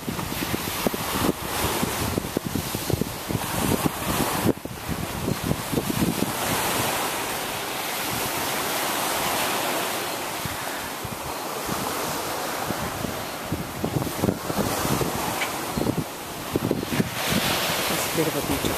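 Waves lapping on the shore of Lake Nicaragua at Ometepe Island, where the old beach has washed away, heard as continuous near surf wash with heavy wind buffeting the microphone throughout.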